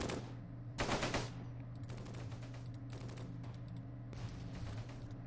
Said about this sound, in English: this Churchill puts down, I'd say, like two shots into that group of densely packed enemy infantry